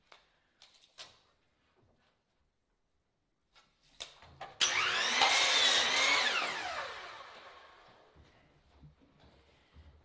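A piece of wood cut in a woodworking workshop, a few faint knocks and shuffles, then a loud burst of a power saw biting into the wood for about three seconds and tapering off, followed by quiet handling noises.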